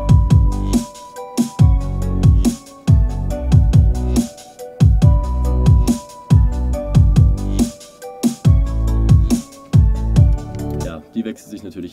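Vibraphone melody over a dubstep track intro, bright ringing mallet tones layered with heavy pulsing bass hits and punchy drums in a steady repeating groove.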